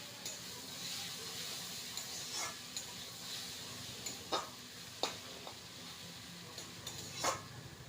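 Ash gourd pieces frying in a pan with a soft continuous sizzle, as a spoon scrapes and stirs in several sharp, irregular clinks and scrapes.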